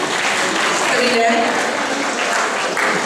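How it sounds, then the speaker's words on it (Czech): Audience applause greets a finalist at a school comedy sketch about weightlifting, a dense, steady clapping across the room with voices talking over it. "Dovolte mi přivítat, prosím, o potlesk, velký potlesk"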